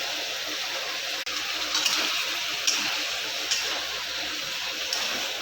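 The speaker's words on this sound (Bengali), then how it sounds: "বাটির মশলা ধোয়া জলটা দিয়ে দেবো, দিয়ে আবার কিছুক্ষণ নাড়াচাড়া দিয়ে নেব।" Rinse water from a spice bowl poured into a simmering curry, a soft continuous wash of splashing and hiss with a sharp knock early and a few faint clinks.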